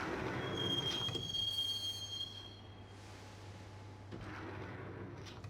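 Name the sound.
train riding to Roscoe Street Station in the video game Max Payne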